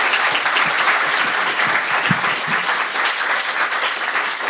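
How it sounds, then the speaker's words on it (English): Audience applause at a live podcast recording at a film festival, a dense, sustained wash of many hands clapping in a room, steady and fairly loud without talk. "Round of applause for them, please."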